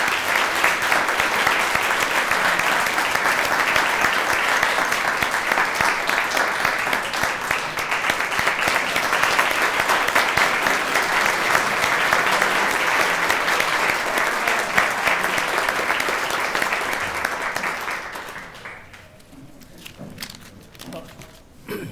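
Banquet audience at a Quincy University legal hall of fame ceremony applauding the inductees and award winner, loud sustained clapping from a large crowd lasting about eighteen seconds before tapering off into scattered claps and room noise.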